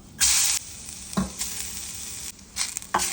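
Coriander seeds and urad dal dry-roast in a pan, with short bursts of crisp rattling sizzle as they are stirred, separated by quieter pauses and a few scraping knocks.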